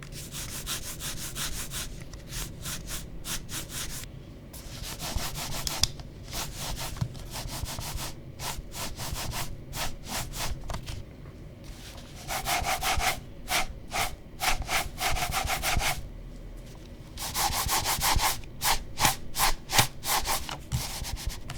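Hystar Mirai gaming mouse pads gliding under mice, a steady dry rubbing swish in repeated bursts of back-and-forth strokes, close and fairly quiet, with faster flurries later on.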